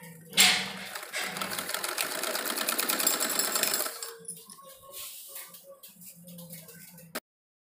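A sewing machine runs a steady, close, loud stitch along a salwar hem for several seconds, then slows and stops, followed by softer handling noises and a sharp click at the end.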